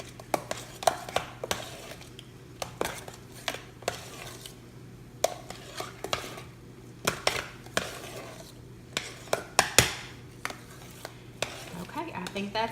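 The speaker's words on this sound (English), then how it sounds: "I'm going to mix it up with this spoon" A spoon mixes homemade mashed potatoes with butter and pepper, giving repeated close scraping and clinking against the pot in an irregular rhythm, with soft squelchy stirring between the knocks.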